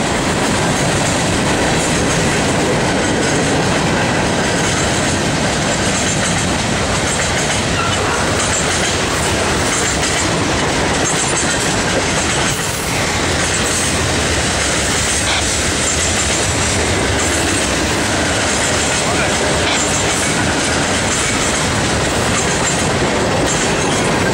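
A short CSX freight train hauled by BNSF locomotives rumbles past close by at Mount Holly, steady loud roar with clickety-clack of wheels and occasional metallic squeal throughout.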